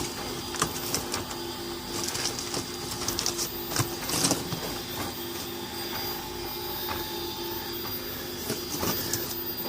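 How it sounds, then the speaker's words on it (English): A 3D printer runs a print, its stepper motors whirring and buzzing in shifting tones with intermittent clicks and brief rising movements, close and steady with no speech. "This my 3D printer is actually printing"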